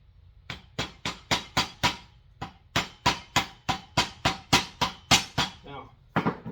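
A hammer strikes a chisel again and again to drive out an axle seal on a 1993 Cobra 8.8 rear axle, a steady run of about eighteen sharp, close metallic blows with brief pauses.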